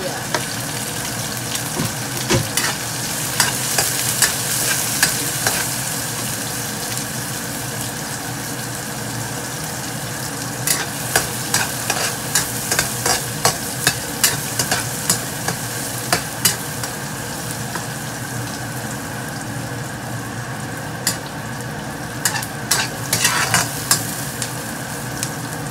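Onions fry in a pan with a constant loud sizzle while a utensil stirs and scrapes them in irregular bursts, close up, with occasional talking over the cooking.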